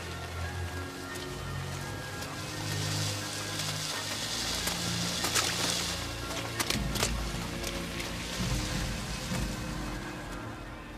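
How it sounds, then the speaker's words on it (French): Acid rain pours down in a film scene, a dense steady hiss of falling rain with scattered sharper spatters and a low rumbling undertone, continuous and fairly loud with no voices. "Il y a de la pluie acide, dépêchez-vous."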